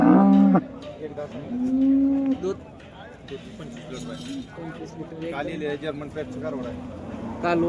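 A heifer and cattle at a livestock market, with several loud, drawn-out moos close by, one opening the stretch and others following, amid crowd chatter and clinks.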